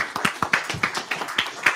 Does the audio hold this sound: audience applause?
yes